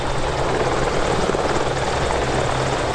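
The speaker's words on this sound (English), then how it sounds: "I was delighted to see this Royal Navy Merlin up close as she dropped in for a hot refuel" A Royal Navy Merlin military helicopter landing close by for a hot refuel, its loud, steady rotor and engine roar filling the air without a break.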